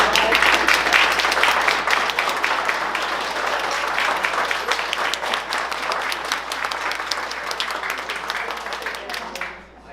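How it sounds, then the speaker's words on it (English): An audience at a town planning board meeting in Manchester breaks into loud applause, dense overlapping claps from a crowded room that hold steady and then fade out near the end. "I know that you appreciate the applause"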